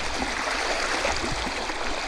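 A strong stream flows at night during traditional fishing in Konkan, giving a dense, continuous rushing roar of water close by with no voices.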